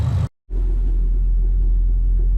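Steady, loud low-frequency exhaust rumble from a 1999 SVT Cobra Mustang with a Coyote engine swap, mufflers, a long-tube header and catback exhaust, idling after a brief sharp dropout near the start, with no talk.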